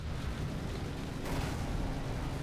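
Battleship artillery firing during a From the Depths battleship tournament battle, a continuous heavy roar of booming, rumbling blasts with a fresh surge partway through, loud and with no speech.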